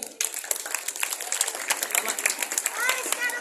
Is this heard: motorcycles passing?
no